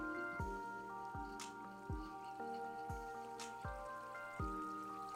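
Paintbrush rinsed in a water cup after acrylic painting, a run of about seven wet plunking drips and swishes in a regular rhythm, close and quiet with no talk.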